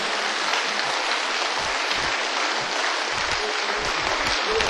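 A crowd applauds at a religious gathering, with dense, steady clapping that fills the whole stretch at an even, loud level, plus scattered low thumps.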